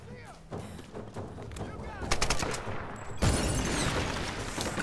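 Gunfire in the video game Tomb Raider (2013) comes as a cluster of sharp shots and booming bursts that grow louder toward the end, mixed with other game sounds and some talk.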